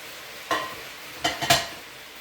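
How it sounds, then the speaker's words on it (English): Marinated beef tossed and stirred in a pan over high heat, with a steady low sizzle broken by three short scraping, clattering stirs close by. "I did turn up the heat just a little bit so that you can cook the beef at a fast,"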